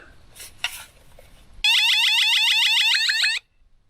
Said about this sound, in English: This guy's the motion sensor and that is the alarm.